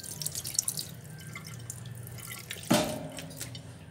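Tap water runs over chicken wings being rinsed with salt before frying with fish sauce, a steady close splashing and dripping at a sink that swells into a louder gush partway through.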